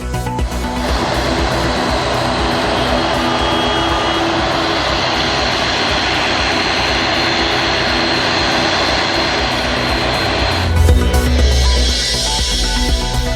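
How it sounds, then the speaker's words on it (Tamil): Passenger airplane at Trichy airport's new terminal on its first flight, a steady loud roaring jet engine rumble that holds throughout, with a deeper low surge near the end. "முதல் விமானத்திற்கு வாட்டர் சல்யூட் அடித்து வரவேற்பு."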